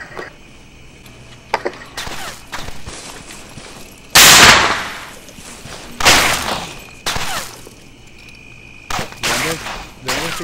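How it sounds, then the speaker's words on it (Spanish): Gunfire in the Arma 3 military shooter during a night battle: scattered single shots and short bursts ring out, with one loud, long close volley near the middle and several sharper cracks later, over a faint insect-like background hiss. "Disparo."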